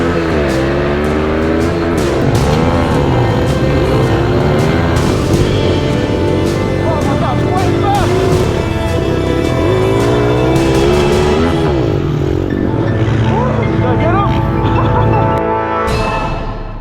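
A small big-bore TTR110 pit bike engine with a Nibbi intake kit runs continuously, loud and close, with a buzzy, rough tone that wavers slightly as the throttle is blipped.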